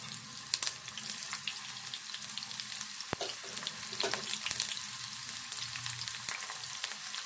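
Onions and garlic fry in a pan with mustard seeds and cumin, a steady close sizzle with occasional sharp spatula taps and stirring scrapes throughout.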